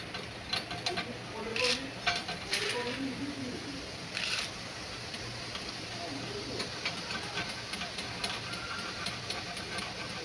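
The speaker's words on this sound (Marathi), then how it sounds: "डाळ हे पण जास्त वेळ नाही तळायचे" Dal (lentils) frying in hot oil on low heat for a homemade chivda, a steady close sizzling hiss with occasional light clinks of stirring and a faint voice in the background.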